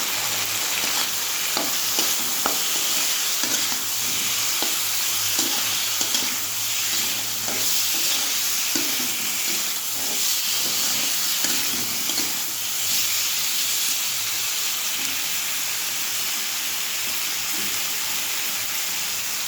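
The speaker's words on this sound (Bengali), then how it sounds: "আস্তে আস্তে করে মশলাটা কষানো হয়।" Spice masala of ground coriander, cumin and turmeric fries in a pan under a steady, close sizzle, broken by regular scraping clicks as it is stirred slowly.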